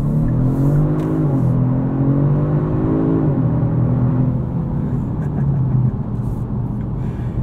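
A 2022 Genesis G70 3.3T with all-wheel drive accelerates from inside the cabin, its engine drone rising in pitch through steady pulls with brief shifts, loud and continuous for several seconds.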